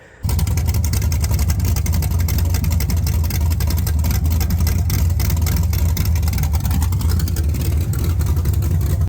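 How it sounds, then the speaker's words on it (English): A car engine with a 224 cam, a tight LSA, 243 heads and open headers idles loud and close, its deep, lumpy chop pulsing steadily throughout. "I think it's like a 224 cam with a really close LSA, so it chops pretty good actually"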